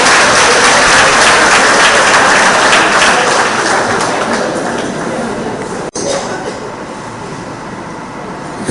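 Loud, sustained applause from the audience at a monthly meeting of a retired persons' association in Trinidad and Tobago, a dense wash of clapping that eases slightly toward the end.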